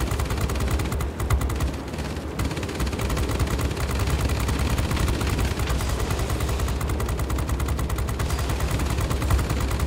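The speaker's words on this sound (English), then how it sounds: "That's a lot of bullets coming at you there, sir." Dense, sustained machine-gun fire from World of Warplanes aircraft, rapid bursts rattling continuously over a low engine drone with no pauses.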